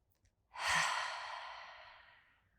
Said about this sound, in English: One more inhale.